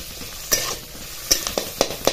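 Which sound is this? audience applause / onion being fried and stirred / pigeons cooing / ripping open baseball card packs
onion being fried and stirred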